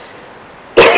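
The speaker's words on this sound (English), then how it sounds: "I was having that nasty wet cough" After a quiet stretch, a sick person lets out a single sudden, loud wet, congested cough at the very end.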